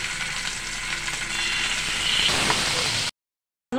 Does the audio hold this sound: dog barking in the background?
no